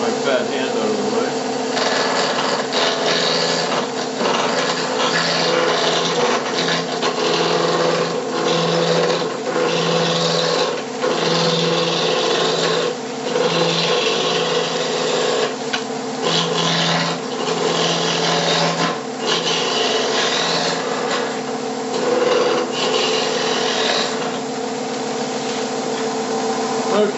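A wood lathe spins at about 1200 rpm while a tool rounds a blank into a cylinder, giving a continuous close scraping and rasping hum with rhythmic pulses and brief gaps as the cut varies.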